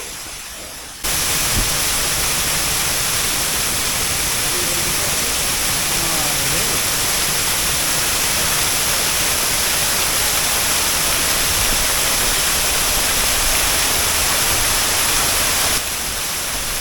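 Napittachora waterfall on a monsoon forest trail in Mirsarai, Bangladesh, with its flow reduced, roaring as a steady broadband rush of falling water that stays loud and unbroken from start to finish, with no voices.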